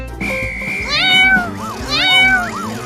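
A cat meows several times in a row, close and loud, the calls rising and falling in pitch with brief pauses between them, heard alone over a faint background.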